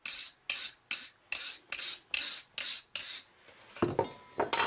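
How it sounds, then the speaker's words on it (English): A hand file rasps across a rusty machete blade in eight steady, evenly spaced strokes, loud and close, followed by a brief clatter as the tool shifts, with no talk. "When you start filing, these grooves in here, they start loading up with material."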